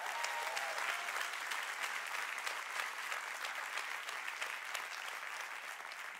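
A church congregation claps their hands together, steady dense applause filling the room for several seconds, fairly faint and even throughout with no talking over it.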